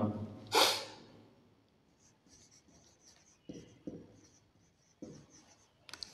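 Chalk or marker on a board during a maths lecture on real numbers, heard as a few short scratchy strokes under quiet breathing in a room. It opens with a sharp snort-like burst.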